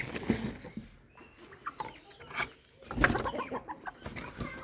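Chickens in a poultry coop cluck intermittently at close range, soft irregular calls scattered against a quiet background.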